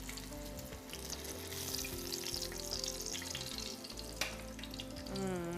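Eggplant pieces frying in hot oil for a Turkish-style dinner, a steady close sizzle throughout with faint clinks of kitchen utensils and a brief louder clatter near the end.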